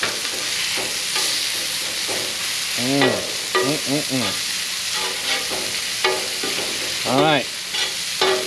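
Cheesesteak meat frying in a pan gives a steady loud sizzle throughout, with scraping and stirring strokes and brief bursts of voice over the frying.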